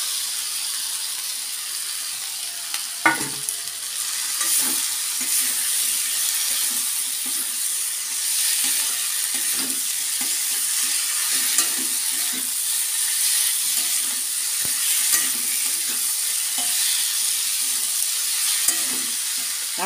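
Eggplant, bitter gourd and potato pieces stir-fry in a reddish spiced curry paste with a little water. A continuous close sizzle hisses throughout, with occasional scrapes and knocks from stirring.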